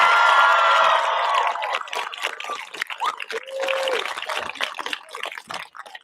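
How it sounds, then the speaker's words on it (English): A graduation crowd applauds the Mystic Valley class of 2026, a loud, dense burst at the start that thins after a second or so into scattered claps, cheers and crowd voices. "Can we get a huge round of applause for the intelligent, dedicated, compassionate, talented Mystic Valley class of 2026?"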